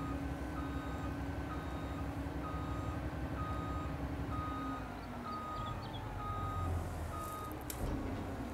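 Steady, evenly spaced reversing beeps from a vehicle in the farming game Farming Simulator 22 sound over a continuous engine rumble, holding at a fairly loud level for several seconds with no talking.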